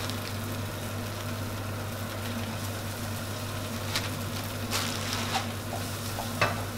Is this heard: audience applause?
no